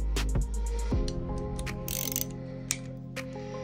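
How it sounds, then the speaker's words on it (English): A ratchet and socket tighten the nut on a OneUp composite mountain bike pedal during a bearing service, giving a few close, sharp mechanical clicks with a lingering metallic ring. "Make sure the ratchet's on"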